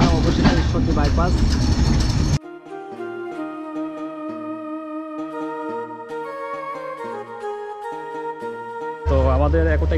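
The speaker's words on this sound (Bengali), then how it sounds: "তো আমাদের একতা এক্সপ্রেস ট্রেনটি এখন ঈশ্বরদী বাইপাস থেকে সরাসরি চলে যাবে পঞ্চগড়ের উদ্দেশ্যে।" The Ekota Express train at Ishwardi Bypass railway station gives a loud, close rumble and clatter for about two seconds, then music plays before the heavy train noise returns at the end.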